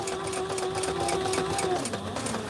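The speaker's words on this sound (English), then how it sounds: "making sure that we don't sew stuff on the bottom side" A Sailrite sewing machine stitches flight suits, running in a steady, fast, close mechanical rhythm with a whirring motor tone and rapid needle clatter, with someone talking faintly underneath.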